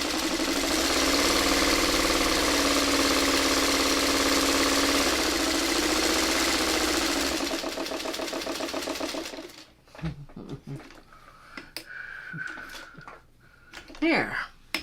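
A sewing machine stitches floral quilt fabric with a loud, steady, rapid whir for about nine seconds, then stops, leaving only a voice talking and small handling sounds.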